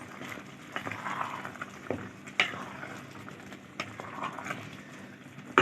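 Peas and meat being stirred in a pot with stock, a soft bubbling sizzle running throughout with a few sharp scrapes and clinks of the spoon against the pot.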